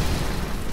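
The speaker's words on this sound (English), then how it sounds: "I can set the vending machine on fire" A vending machine set ablaze in the video game BioShock, a dense roaring burst of fire filling the brief moment, loud and close.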